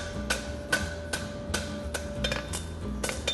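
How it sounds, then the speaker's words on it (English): A hammer strikes hot steel on an anvil during forge welding of a straight bar, with about eight sharp ringing blows at a steady, slightly irregular pace, close and loud, with a sustained metallic ring between hits. "Push down with my tong hand, hit at an angle with my hammer."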